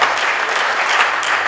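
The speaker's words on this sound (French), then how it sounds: "si on peut applaudir pour l'assistance" Dense, loud applause from a conference audience fills the whole stretch as a continuous even roar with no voices on top.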